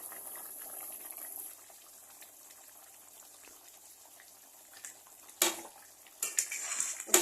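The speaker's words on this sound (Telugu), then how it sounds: "ఇప్పుడు మూత పెట్టి ఒక బాయిల్ వచ్చేంత వరకు వెయిట్ చేద్దాం." A covered pot of kofta curry with milk and egg heats toward a boil with a low, quiet simmering hiss, then clatters and rattles near the end as the pot or lid is handled.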